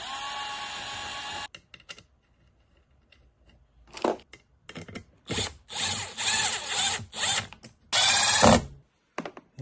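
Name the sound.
power drill drilling through holes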